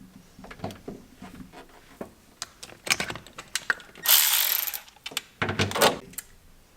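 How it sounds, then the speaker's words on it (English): A ratchet wrench working small bolts on a Honda Civic EK, quick clicking bursts with metallic handling and one longer hissy rasp midway, close up, no talk. "I do have 3 10mm bolts that I do have to remove"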